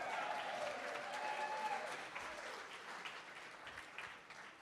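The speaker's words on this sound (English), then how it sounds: "give him another round of applause" Audience at a community talent show claps steadily, a dense, fairly distant wash of applause that fades slightly toward the end, with a faint voice drifting over it.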